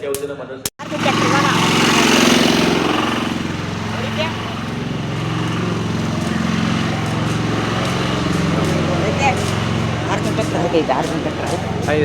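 A loud, steady tractor engine drones and rattles continuously nearby for the whole stretch, after a sharp knock at the start.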